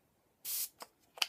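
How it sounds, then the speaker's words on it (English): Fix Plus setting spray misted onto a makeup sponge: one short hissing spray burst followed by two quick, softer handling clicks, close up and quiet, with no voice. "And I'm going to spray it"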